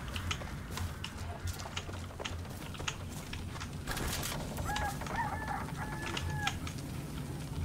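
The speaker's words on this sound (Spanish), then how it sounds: "¡Gallos de mierda!" Roosters crowing and clucking in the video game Far Cry 6, several fowl calls layered over steady game ambience with rapid keyboard typing clicks, the crows rising clearly in the second half.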